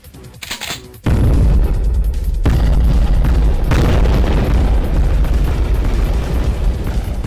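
Explosions in the 1997 video game Shadow Warrior as an oil refinery is destroyed: a sudden heavy boom followed by a sustained roaring, rumbling blast, loud and continuous.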